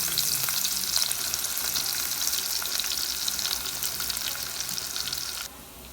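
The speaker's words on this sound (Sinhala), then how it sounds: "තෙල් ටිකක් දානවා රත් වෙනවා. දැන් ඉඟුරු ටික දානවා." Ginger sizzles and spits in hot oil in a pan, a steady, loud frying hiss with faint stirring that drops away abruptly near the end.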